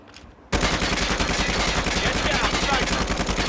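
Rapid automatic gunfire in the mobile shooter Call of Duty Mobile, a dense loud burst of shots that starts abruptly after a brief quieter moment and continues without pause.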